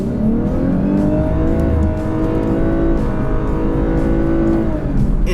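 A 2019 Lexus LC 500h hybrid accelerates at full throttle, its engine note rising and dropping through a series of gear shifts, loud and close from inside the car with a steady droning roar.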